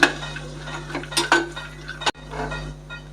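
Cashews roasting in ghee in a pan for Maharashtrian dink ladoo, stirred with a metal spoon. Light scrapes and clinks against the pan come at close range over a faint low hum, with one sharper knock midway.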